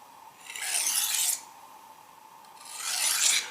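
A knife drawn across a very coarse 36 grit oiled dressing stone, two long rasping strokes about two seconds apart, close and clear with no talk.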